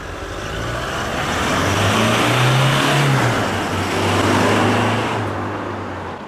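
Stock muffler on a Toyota Hilux GUN125 at medium speed: a loud, steady exhaust hum with a rising engine tone, heard close with broadband road and wind noise, no voices.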